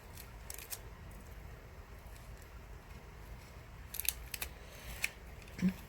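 Scissors snip through clear Scotch tape trimmed along the edges of a pumpkin light, a few crisp close cuts over quiet room noise with no talking.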